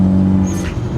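Engine of a Mitsubishi Lancer Evolution X, a loud close steady drone with a strong low hum, alone with no talking.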